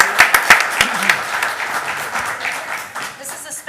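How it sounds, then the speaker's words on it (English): Audience at a school board of education meeting breaks into applause, a burst of clapping that starts sharp and then thins into scattered claps over a few seconds, with voices mixed in. "So if we give her one more round of applause."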